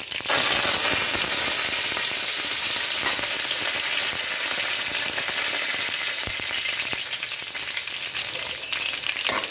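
Curry leaves, green and red chilies and a bay leaf drop into hot oil already crackling with mustard seeds and cumin, a loud, dense sizzle and spatter running steadily throughout with no talk.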